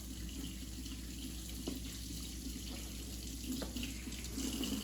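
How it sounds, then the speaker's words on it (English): Water running steadily from a kitchen tap into a sink as fingers are rinsed, a continuous close hiss and splash with slight swells, no talking. "while you go wash your fingers"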